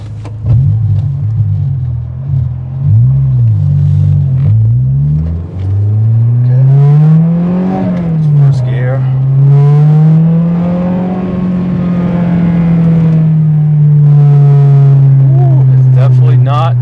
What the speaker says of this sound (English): Definitely not a stock exhaust. She makes some noise.